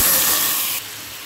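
Hot coconut oil sizzles loudly in a pan as mustard seeds, curry leaves and asafoetida go in for tempering, a dense steady hiss that drops to a softer sizzle partway through.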